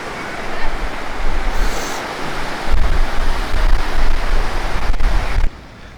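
Surf rolls and breaks steadily on a beach at Cadiz on a pleasant day, a broad continuous wash of waves with some wind buffeting, swelling louder midway before dropping off abruptly near the end.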